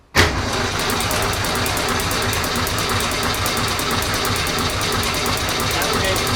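A 1965 Ford Falcon engine, being cranked after a year of restoration, starts abruptly and then holds a loud, steady, rapid mechanical rhythm, close by with no pause.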